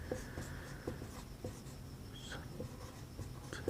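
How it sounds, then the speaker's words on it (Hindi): A pen moves across paper during a maths lesson on ratio and proportion, a soft close scratching broken by regular light taps, with no talk over it. "यही लिख देता हूँ ऑप्शन से"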